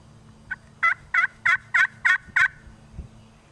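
A wild turkey hen yelps in the Tennessee woods in early April: a run of seven evenly spaced, clear calls, fairly close and loud, with quiet woodland background and no talking.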